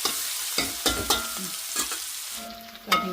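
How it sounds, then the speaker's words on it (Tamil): Chopped onions sautéing in a pan for a home-cooked Tamil lunch: a soft frying sizzle broken by several scraping stirs of a spoon against the pan, close and fairly quiet, with no talking. "நல்லா வெங்காயம் வதங்கி வந்துட்டு"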